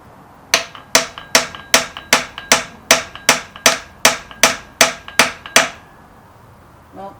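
Thirteen sharp metallic hammer blows drive a wedge in a steady, even rhythm, close and loud, then stop, followed by a faint knock.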